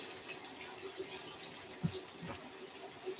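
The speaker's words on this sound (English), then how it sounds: "so I'm just rinsing it off under the pipe." Fresh thyme rinsed under a running kitchen tap, giving a steady, close splash of flowing water with a few small spattering bumps, with no talking.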